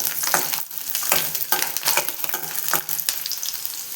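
Garlic and green chili frying in oil for a raw chickpea chutney, a close crackling sizzle broken by repeated bursts of stirring and spatula scrapes.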